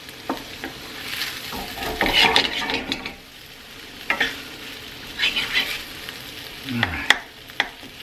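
Hibachi fried rice sizzles in a 12-inch heavy-duty 5-ply stainless steel pan, with a steady frying hiss and repeated scraping stirs of a utensil against the metal, close and loud, and a brief spoken remark at the start.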